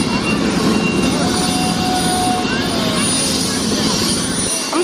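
A FlyNYON helicopter flight over New York fills the cabin with loud, constant rotor and engine roar, a steady dense drone that runs unbroken from start to finish, with no clear speech over it.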